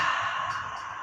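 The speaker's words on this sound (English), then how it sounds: "Exhale through the mouth." A breath exhaled slowly through the mouth during a yoga flow, one soft breathy sigh lasting about a second, close and alone without speech.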